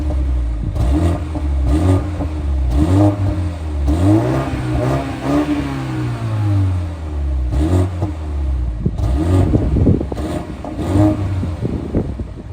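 BMW G42 220i with a 2-litre turbocharged petrol engine revving loudly and repeatedly, pitch sweeping up and down through several throttle blips over a steady idle, close and with no talking.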